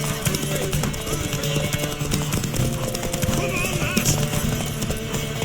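In a video game, a horse gallops with rapid rhythmic clip-clop hoofbeats and neighs over busy game noise, while voices talk throughout.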